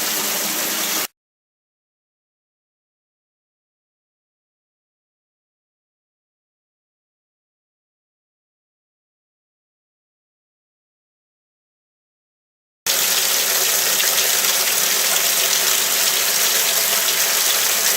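Tap water running steadily over blackworms being rinsed in a container, a broadband gushing wash that starts briefly, cuts out to silence, then returns loud and continuous.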